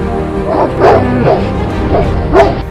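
Dogs in Leh barking and yipping, with about five sharp barks in an irregular rhythm, fairly close and loud over a low background murmur.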